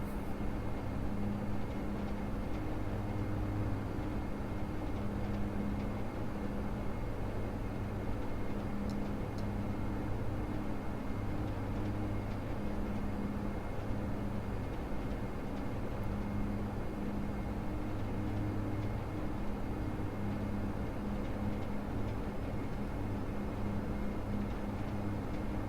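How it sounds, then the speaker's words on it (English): Q400 turboprop cabin during a landing in a blizzard, a steady loud drone of engine and airflow filling the cabin with low rumbling hum throughout; faint creaks may sit beneath the constant noise. "this plane is so creaky."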